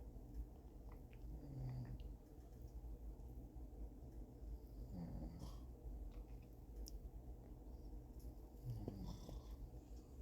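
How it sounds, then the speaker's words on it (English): A husband snores while asleep: three slow snoring breaths about three seconds apart, faint and distant over a low background hum. "sorry if you hear someone snoring, my husband is sleeping while I'm doing this voiceover"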